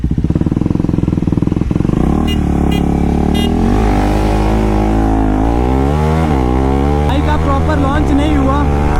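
A Bajaj NS400Z motorcycle launches hard and accelerates, its loud engine note climbing in pitch, dropping at each gear change and climbing again through several gears, close and with no voices.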